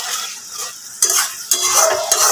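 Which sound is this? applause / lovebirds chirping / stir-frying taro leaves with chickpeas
stir-frying taro leaves with chickpeas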